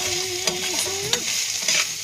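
Shrimp fry in a hot pan for chingri bharta with a steady close sizzle and crackle, punctuated by a few sharp spatula scrapes and stirs.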